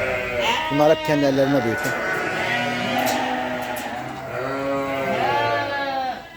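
Lambs and sheep bleating repeatedly at feeding time on a farm, several calls overlapping at close range while someone talks over them.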